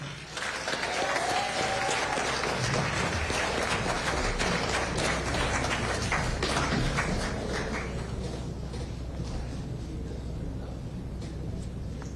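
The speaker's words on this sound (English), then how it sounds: "Let's give another round of applause to the recipients of the 30-year long service and good conduct claps." Sustained audience applause at a Royal Bahamas Defence Force awards and medal ceremony for long-service medal recipients, a dense, even crowd clapping running throughout with a few thumps early on.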